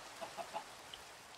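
Chickens in the Minecraft video game give three short, soft clucks in quick succession, followed by a faint fourth peep, over a quiet background.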